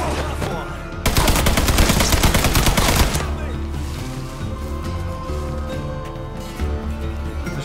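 Gunfire in the Mafia 3 video game mission against the KKK, including M60 fire: a loud sustained burst of rapid automatic shots, then scattered single shots and battle noise, with a voice talking briefly.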